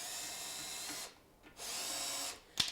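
A Festool drill fitted with a socket adapter whirs loudly as it spins a nut down on drum sander assembly hardware, running about a second, pausing, then running again before a sharp click as the clutch slips.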